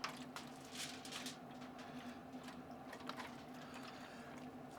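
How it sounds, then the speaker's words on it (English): Beef broth poured into a pan on a Blackstone 22-inch XL griddle pellet grill combo, a steady soft liquid trickle and splash with light squishing, fairly quiet and continuous. "We'll just pour it in this pan right here."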